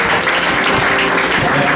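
Church congregation applauding during a service: dense, continuous clapping from many people filling the room, loud and steady, with voices mixed in underneath.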